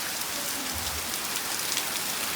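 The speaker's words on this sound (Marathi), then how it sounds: "काय हा पाऊस, सगळं इकडं वाऱ्याने भिजवून टाकलंय बघा" Heavy rain pours steadily in wind-driven sheets over a Konkan home, a dense continuous hiss of drops beating on surfaces close by, loud and unbroken with no voices.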